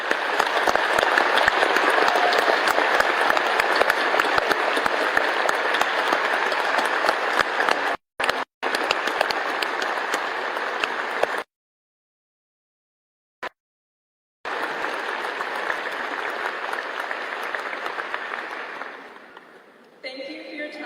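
Sustained crowd applause for retiring teachers at a high school graduation ceremony, loud and steady, with two brief dropouts and a longer silent gap midway before clapping resumes and fades near the end.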